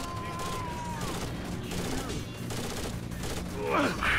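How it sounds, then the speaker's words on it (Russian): Sustained enemy gunfire in Rainbow Six: Vegas, a continuous rattling fusillade with thuds and a rising crash near the end, steady and moderately loud throughout. "Но кто там по мне настреливает так яростно?"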